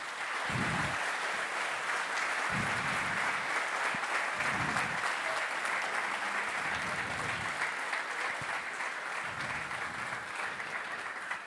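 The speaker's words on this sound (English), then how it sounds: "let's give the Auburn team a nice round of applause" An awards-ceremony audience at the Formula SAE Lincoln Electric event applauds the Auburn team, sustained, even clapping from a large crowd that fills the room for over ten seconds.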